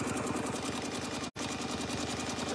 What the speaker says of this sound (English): So I'm just going to stitch back up to that spot.